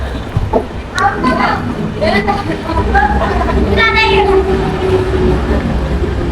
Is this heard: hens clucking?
no